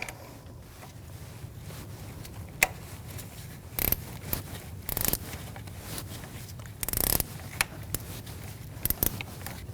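A bolt on a 2016-2025 Chevrolet Malibu's exhaust variable valve timing solenoid is snugged with a 10mm socket, giving quick, irregular ratchet clicks and sharp metallic ticks over a low hum, close and fairly quiet.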